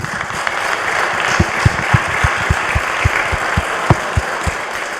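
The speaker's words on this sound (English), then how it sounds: "I hope you will join me in giving them a big round of applause" Audience applause for a panel at a public-sector technology conference, steady clapping with some sharper individual claps standing out, fairly close, with no voices over it.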